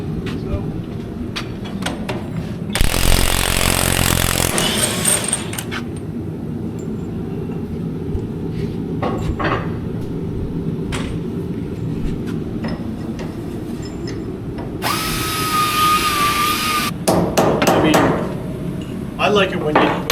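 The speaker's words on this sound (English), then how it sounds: "with 2 men handling each rivet gun" Rivet guns hammering hot rivets during the overhaul of Reading & Northern's No. 425 steam locomotive, with bursts of rapid, loud pneumatic hammering at intervals over shop noise and some talking.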